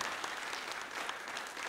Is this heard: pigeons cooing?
no